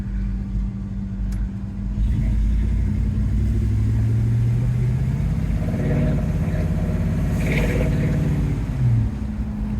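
A 1972 Chevy C10 pickup's 402 engine rumbles and revs up heavily, rising and falling in pitch as it accelerates, heard up close from inside or near the truck.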